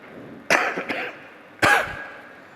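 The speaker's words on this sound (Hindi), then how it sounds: "किसी को मेरी बात बुरी लग गई इसलिए खांसी चलने लगी" During a spoken religious discourse, someone coughs in close, abrupt bursts: two quick coughs, then a third after a short pause, over a quiet room background.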